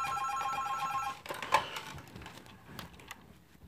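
In an animated cartoon, a telephone rings with a rapid trilling bell that stops after about a second, followed by faint clattering and soft tapping noises, quiet overall and with no voices.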